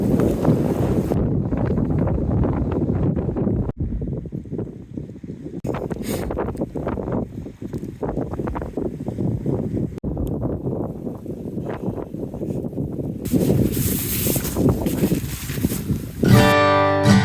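Strong wind buffets a wild camp site beside a four-season PreTents Border tent, roaring loudly and near the microphone in rough gusts that swell and drop throughout.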